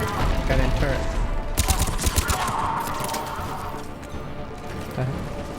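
Mass Effect 3 turret gunfire in rapid dense bursts of sharp repeated shots, loud and up close, with game combat noise around it and a voice speaking over parts of it.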